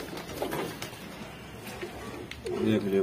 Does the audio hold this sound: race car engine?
no